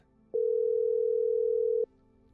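A single steady electronic tone on a phone call in a video game, sounding once for about a second and a half, clear and alone with no talking.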